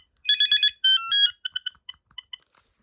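A Binatone Icarus 2100 phone ringtone plays a quick chiming electronic melody of bright bursts, then trails off into softer, spaced beeping notes.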